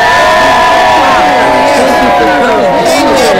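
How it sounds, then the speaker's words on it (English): A studio audience at a Good Morning America taping cheers, whoops and shouts as the Muppets come in, a loud dense crowd roar with excited voices throughout. "with the audience cheering for them coming in"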